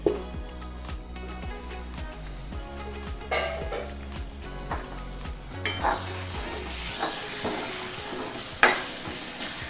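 Tomatoes and spices fry in oil in a covered pot for restaurant-style chicken handi: a steady close sizzle broken by repeated stirring scrapes and occasional sharp metal clinks against the pot.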